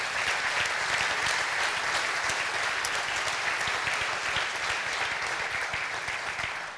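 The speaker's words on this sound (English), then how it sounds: "Can I get a round of applause for the panelists today?" Sustained, dense applause from a conference audience after an IoT panel discussion, loud and steady throughout before tapering slightly at the end, with no talking over it.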